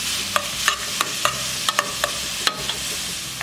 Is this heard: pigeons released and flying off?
no